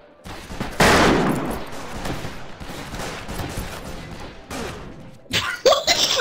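Gunfire in the Western multiplayer shooter game Fistful of Frags: a loud burst of shots followed by scattered rapid fire and clatter, with a few more sharp shots near the end.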